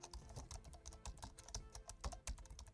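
Rapid, steady keyboard typing while Arduino code is entered to control an LED on an IoT board, dense clicky keystrokes close up with no talking.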